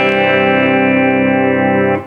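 A Telecaster-style guitar built from a cheap kit, set to the middle pickup position, rings out one sustained strummed chord that holds steady and is cut off near the end.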